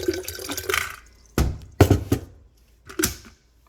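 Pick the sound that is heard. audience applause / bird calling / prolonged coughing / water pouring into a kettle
water pouring into a kettle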